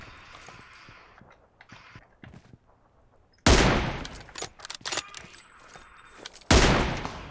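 Gunfire from the video game PUBG Mobile: two loud, sudden sharp bursts of shots, the second a few seconds after the first, with faint clicks and quieter game sounds between them.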